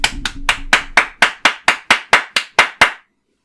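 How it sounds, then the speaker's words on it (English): Twelve sharp hand claps are recorded as a test sound, loud and close, in a steady rhythm of roughly four per second, then silence. "My new failure is going to be some claps."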